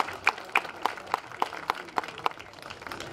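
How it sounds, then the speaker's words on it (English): Light applause for elected officials at an inauguration ceremony: a handful of crisp, evenly spaced claps sound fairly close, over a soft room murmur, and fade toward the end. "Please give all of our elected officials a round of applause."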